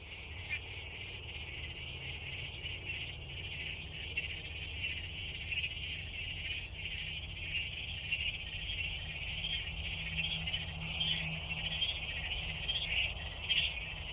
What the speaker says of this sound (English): Sound of the frogs, absolutely fantastic.